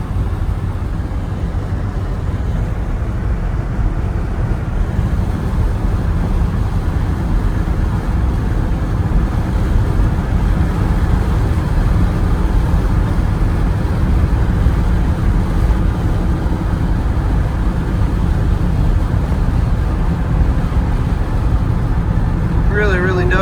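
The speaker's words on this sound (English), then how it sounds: "Shifts through all the gears the right way. Really just an excellent running," A 1969 Ford F100 Ranger pickup with a 360 V8 drives along with a steady engine drone and road rumble from inside the cab, while a voice talks over it.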